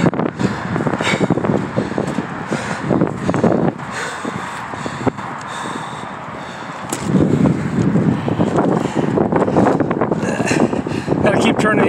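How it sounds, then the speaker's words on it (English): Wind gusts buffet an umbrella outdoors in a steady, loud rushing roar with flapping bursts, strongest in the second half, while people talk over it. "Gotta keep turning the other way because the wind's blowing the umbrella."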